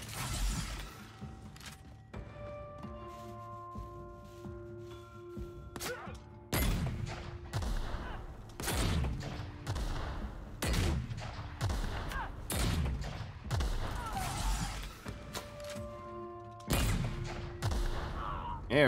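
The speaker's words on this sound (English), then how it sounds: "Had to pull out the old grenade launcher." A grenade launcher in The Outer Worlds fires and detonates in a string of sharp, punchy blasts with shattering impacts spaced a second or two apart, over a low sustained tone and scattered mechanical clicks.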